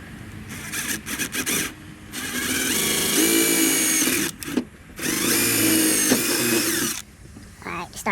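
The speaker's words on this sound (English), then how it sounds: "now we get to the point of drilling" A power drill bores holes for a Drake strut tower brace in the engine bay of a 2021 Dodge Charger Scat Pack, whining in two long close bursts after short starts, with someone talking in between.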